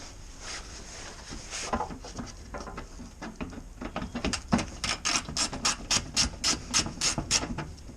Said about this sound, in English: now we're gonna have to unscrew this screw with the T20